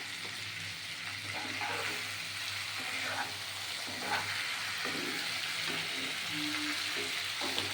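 Ginger, cumin, chilli and coriander sauté in a pan for a fish curry, giving a continuous close sizzle broken by scraping stir strokes and faint background sounds.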